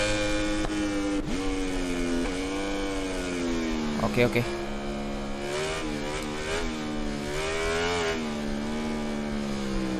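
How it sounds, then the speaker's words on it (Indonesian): A stock-exhaust Suzuki GSX motorcycle revs repeatedly, its engine note rising and falling in sweeping pitch arcs close by, with a brief voice heard over it. "Kalau untuk motor GSX ini memang sangat khas untuk exhaustnya teman-teman ya. Untuk suaranya bagus."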